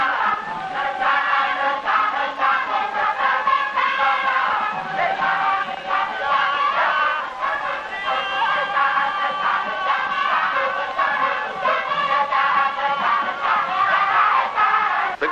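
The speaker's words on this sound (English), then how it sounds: "The crowd gets more and more excited watching the play, although everybody knows how it will end" A large crowd at a traditional Balinese legend play, where good battles evil, roars in a dense, continuous wall of excited shouting and chanting, loud and sustained throughout without a break.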